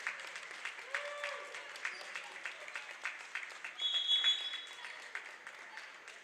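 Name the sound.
crowd applauding seniors at girls basketball game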